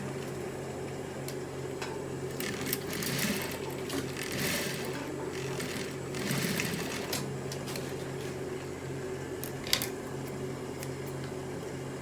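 A sewing machine stitches down a collar's edges, its soft mechanical whir running quietly and continuously at close range with a few faint clicks, and no voices.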